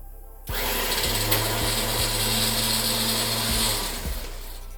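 A newly installed electric winch motor starts abruptly and runs with a steady loud whine and hum for about four seconds, then slows and cuts off.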